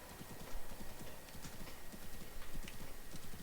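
Horse hooves clip-clopping in the video game Breath of the Wild, a quick steady trot of close, crisp hoofbeats repeating over a soft ambient hiss, with no other sounds.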